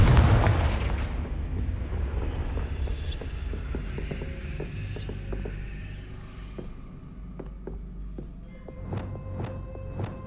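A Confringo fire spell in Hogwarts Legacy bursts with a loud, booming blast that fades into a low rumble, followed by soft footsteps and faint tonal chimes.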